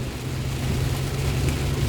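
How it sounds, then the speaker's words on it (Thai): Heavy rain pours down in a steady dense hiss with low rumbling beneath, heard from around an Isuzu D-Max 2020 1.9Z pickup on a coastal road, continuous and moderately loud. "ฝนมันตกเยอะจริง"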